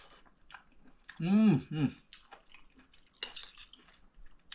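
Someone eating a soft shiitake mushroom from a Cambodian somlor kroko soup, with quiet close-up chewing and faint utensil clicks around a short voiced murmur.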